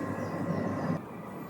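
A Great Western Railway train rolling into the platform at Redruth railway station, a steady close rumble of wheels and engine that drops suddenly to a lower, quieter hum near the end.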